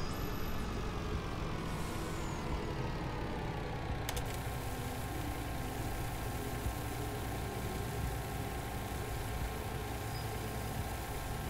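A truck in the video game Farming Simulator 19 holds a loud, steady engine rumble throughout, with a brief air-brake hiss partway through and no talking.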